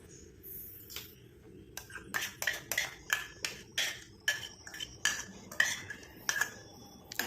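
A spoon working through a boiling homemade hair dye mixture in a metal pot, producing a steady run of bright clinks and scrapes in quick rhythmic strokes, close up with no voices.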